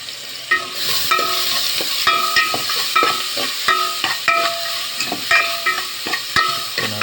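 A metal utensil scrapes and clanks rhythmically in a pan while ingredients fry in hot oil for batchoy, a continuous sizzle and hiss beneath repeated close stirring strokes.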